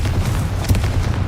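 A Confringo blasting spell explodes in the video game Hogwarts Legacy, one short heavy boom that rises out of a low rumbling background.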